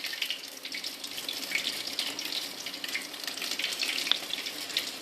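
Okra and onion fritters fry in hot oil over a medium-low flame, giving a steady close crackle and hiss throughout.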